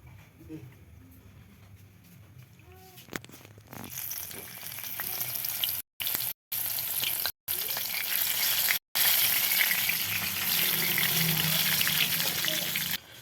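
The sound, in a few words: green chillies frying in hot oil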